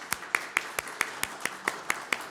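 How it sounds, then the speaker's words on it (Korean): A church congregation claps in welcome for a newcomer at a Christmas service, about ten sharp, evenly spaced claps close by, with no talking. "박수로 환영해 주세요."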